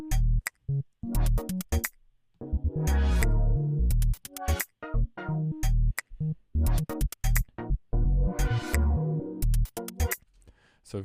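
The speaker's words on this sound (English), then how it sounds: "So we've got some nice, like, jazzy sounding chords." Jazzy chord loop built in Ableton, with punchy beat hits and rich sustained chords cutting in and out in a choppy, glitchy pattern, loud and close with no talking.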